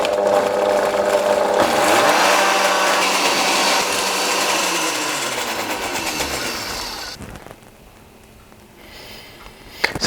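Countertop blender whirring as it purees mint leaves with oil into a mint oil, loud and steady for about seven seconds with a rising motor pitch, then cutting off to a quiet kitchen.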